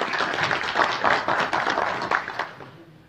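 A crowd in a meeting hall at a football league general assembly applauds, a dense steady patter of many hands clapping that fades out toward the end.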